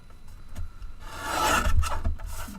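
Paper cardstock being trimmed to size for a handmade card, a close scraping, rasping slide of a trimmer blade that builds over about a second and a half before tapering off, with no talking.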